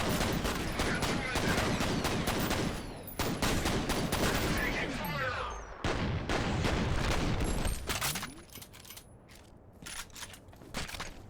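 Machine gun fire in the shooter F.E.A.R., set in a wastewater facility: dense bursts of rapid shots fill most of the stretch, with mechanical weapon handling between volleys and a few sparser shots toward the end.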